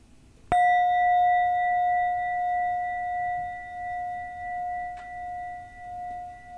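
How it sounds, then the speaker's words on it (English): A meditation bell is struck once, a clear ding with a pure, sustained ringing tone that slowly pulses and fades; a faint second tap comes a few seconds later while the tone lingers in a quiet room. "I'm going to ring the bell"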